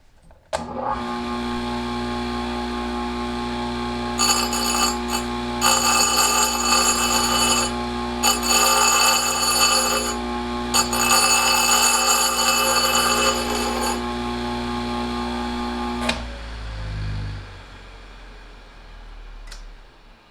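Oregon 520-120 chainsaw chain grinder dressing its grinding wheel: a loud, steady motor whine with bright gritty grinding bursts layered on top, then the motor spins down near the end.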